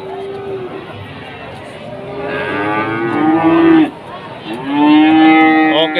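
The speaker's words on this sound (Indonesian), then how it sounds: "Dan juga ini ada sapi-sapi pekot." Cattle moo loudly and close at a cattle market in Wirosari, Grobogan, Indonesia, with long drawn-out calls overlapping one another above a murmur of background voices.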